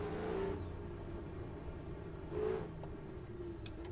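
A car engine pulls and revs in two short surges, a steady mid-level drone swelling briefly near the start and again about midway, fairly close with no talk over it.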